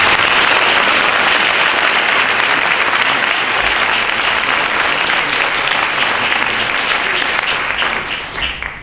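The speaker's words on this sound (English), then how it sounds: "I think this is a good time to give them an applause" Loud, sustained clapping from a large audience at a graduation ceremony, dense and even throughout, tapering off slightly at the very end.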